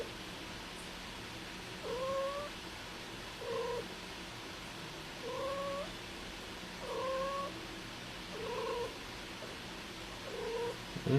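A female cat caterwauls and meows in a steady series of about six drawn-out, wavering cries spaced a couple of seconds apart, fairly close, over a constant low background hiss with no talking.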